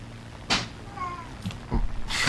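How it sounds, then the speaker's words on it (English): An indoor cat gives a single drawn-out meow, bracketed by a few sharp knocks and bumps nearby. "You're a cat. You don't need me to lift you."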